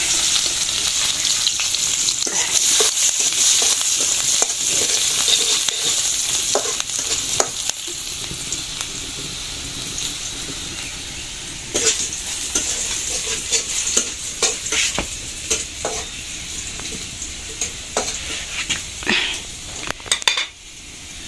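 Greens and garlic sizzle loudly in a hot pan while being stirred, with frequent scraping and metallic clinks of a utensil against the pan over a continuous frying hiss.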